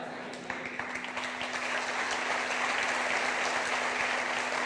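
A crowd applauds at a live comedy show during a public Ganesh festival, producing a dense, sustained wash of clapping that holds steady and slightly swells over several seconds.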